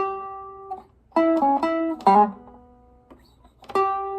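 Electric blues guitar turnaround in an early Chicago style, clean sustained single notes and double-stops sliding through a short descending phrase with pauses between, fairly close and moderately loud, no talking.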